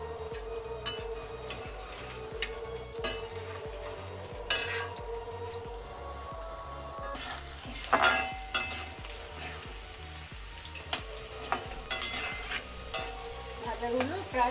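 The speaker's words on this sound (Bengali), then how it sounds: "এগুলো আমি লাল করে ভেজে নেব।" Chicken pieces for chilli chicken fry in oil in a pan with a steady close sizzle, broken by occasional scrapes and clinks as they are stirred and turned.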